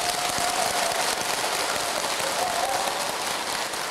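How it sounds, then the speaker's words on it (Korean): An audience at a Buddhist temple gathering claps in a loud, dense burst that holds steady from start to finish and sounds like rain or crackling, with no speech over it. "어차피 박수 친 거 편집돼요, 여러분."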